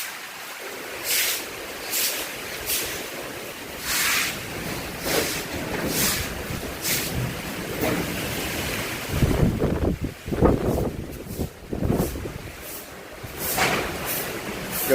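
Strong wind after Typhoon Tino gusts and roars in waves, buffeting the microphone with rumbling blasts that swell and ease over a steady rush, loud and close, with no voices.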